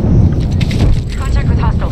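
A frag grenade blows up in Apex Legends, a loud rumbling blast mixed with battle noise, heavy low rumble continuing under a voice speaking.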